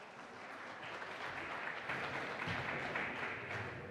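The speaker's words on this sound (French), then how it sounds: "je vous demande de l'applaudir, mesdames et messieurs." An audience at a world conference of cities and ports applauds steadily, a soft, even wash of clapping that stays at a distant, faint level throughout with no talk.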